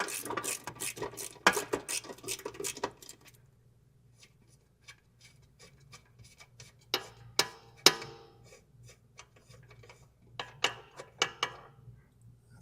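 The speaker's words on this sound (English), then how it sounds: "here's your 18 millimeter 6-point socket" An 18 mm 6-point socket working loose control arm bolts on an Aston Martin: sharp metallic clicks and ratcheting taps in close clusters, with quiet pauses between bursts.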